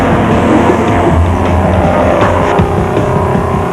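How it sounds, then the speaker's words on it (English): A Toyota Land Cruiser races off-road through thick mud, its engine roaring loud and steady with rough churning and surging throughout, and no talking. "The Land Cruiser ploughed its way through thick mud, with Corbett and Moore following"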